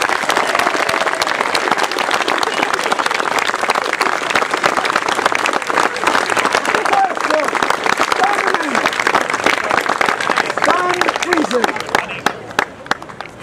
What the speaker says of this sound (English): A huge round of applause, please, and a big cheer for them.